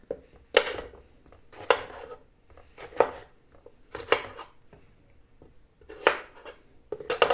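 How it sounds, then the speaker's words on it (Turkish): Sharp knife chops through vegetables and peppers on a cutting board, about one per second in an even rhythm, close and clear without talking. "Hemen sebzelerimi doğrayarak tarifime başlıyorum arkadaşlar."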